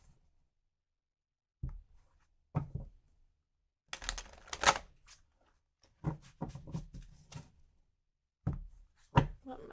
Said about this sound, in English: This deck is so big I can't shuffle it like my other decks generally.